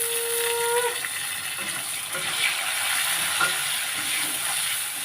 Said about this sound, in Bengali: এবার পেঁয়াজটা ভাজা হয়ে গেছে, দিয়ে দেবো টমেটো।